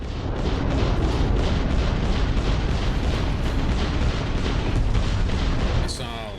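Missile explosions in the space combat of the video game Starfield: a dense, continuous rumble of booms and bursts, loud and sustained for several seconds, fading out at the end with a tonal chirp.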